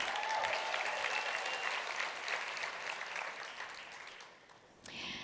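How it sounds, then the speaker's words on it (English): Round of applause from a large audience at a network marketing conference, sustained dense clapping that gradually thins and fades out near the end. "Give yourself a round of applause."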